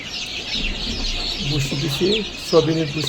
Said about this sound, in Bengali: এগুলো আমার পাহাড়ি মুরগি।